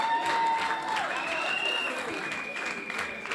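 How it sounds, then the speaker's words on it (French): Fairly quiet applause from an audience at a singing competition semi-final, mixed with crowd noise and a sustained musical tone. "Est-ce qu'on peut les applaudir très fort?"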